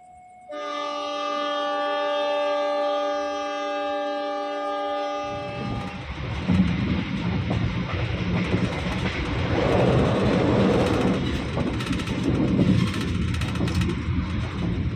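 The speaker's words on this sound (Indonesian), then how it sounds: "Kereta api Kauripan melanjutkan perjalanan dari stasiun Ngawi." A Kahuripan passenger train sounds a long, loud horn blast, then its cars rumble and clatter steadily along the rails as it departs Ngawi station, with no talking heard.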